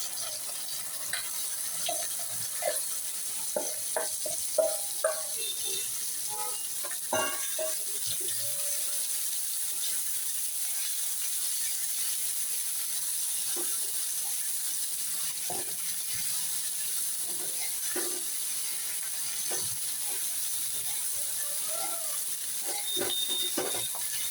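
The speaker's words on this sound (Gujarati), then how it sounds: "થોડી વાર ફ્રાય થાય આ રીતના ભીંડો" Sliced okra fries in a pan with asafoetida, giving a steady, quiet sizzling hiss with scattered small crackles and pops throughout, and no talk.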